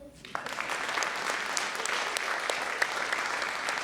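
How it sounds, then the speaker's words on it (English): Applause at a Round Lake Beach village board meeting for the Tiny Miss Round Lake Area queens, rising quickly after a brief voice into steady, moderately loud clapping from a roomful of people. "If you would give these girls one more round of applause"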